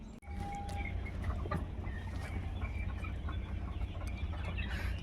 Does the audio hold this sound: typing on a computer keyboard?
no